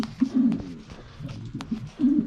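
A racing pigeon coos up close in a few low, throaty bursts, soft rolling calls with short gaps between them and no talking.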